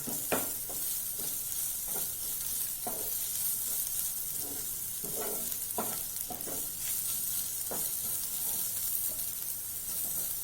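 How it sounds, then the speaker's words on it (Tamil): Onions and slit green chillies sauté in a pan with a soft, steady sizzle and hiss, punctuated by a series of light stirring scrapes, fairly quiet and without talk. "இப்போ மூணு பச்சை மிளகாய் கிராஸாக கீறி வச்சுருக்கேன் அதையும் சேர்த்து வதக்கலாம்"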